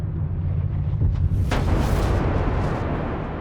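A deep, rumbling explosion effect representing the Big Bang, with a loud sustained roar that swells into a bright burst midway before settling into a dense, lingering rumble.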